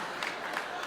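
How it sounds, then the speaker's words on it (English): Audience applause at a stand-up comedy show: a dense, steady wash of clapping from a crowd, continuing for the whole second. "please stop clapping"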